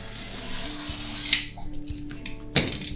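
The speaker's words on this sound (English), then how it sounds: "don't jam your knife in here. You just want to... just enough to nip the tape." Knife nipping packing tape on a cardboard box, a couple of short sharp slicing and crackling sounds close up, separated by quieter handling noise.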